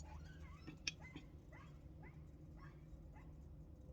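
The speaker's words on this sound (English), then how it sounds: "No, actually, I think that's the neighbor's dog." Faint, distant dog yips and short barks repeat over a steady low background hum.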